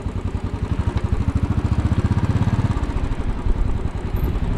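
A motorcycle engine chugs in a rapid, steady low-pitched pulse while riding through stop-and-go midtown Manhattan traffic near the Grand Central viaduct, close and loud with background street noise.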